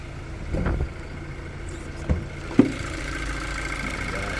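A 2020 Hyundai Tucson Active X with a 2-litre engine idles quietly under the open bonnet, a low steady hum with a few faint knocks and clicks.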